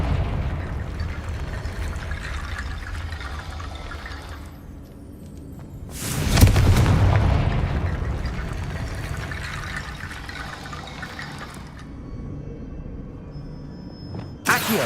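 Confringo explosion spell cast in Hogwarts Legacy, heard as one loud whooshing burst that swells with deep rumble and then fades into a long rushing decay over quieter game ambience.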